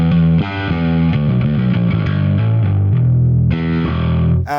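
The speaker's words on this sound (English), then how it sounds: "it's a great distortion unit" A bass guitar played through a Vintage Ultra distortion pedal plays a loud, gritty riff of sustained notes with distinct note changes, ending in a brief break and a sharp final scrape.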